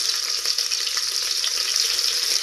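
Crushed garlic hitting green chillies frying in a pan for dal khichdi, a continuous bright sizzle and crackle held at close range and steady loudness throughout, with no talking.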